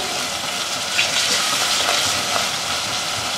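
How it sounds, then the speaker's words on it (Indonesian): Ground turmeric and coriander being stirred in a frying pan, a steady, even sizzle of spices cooking in hot oil, close and continuous with faint scraping, no one talking. "Kita aduk."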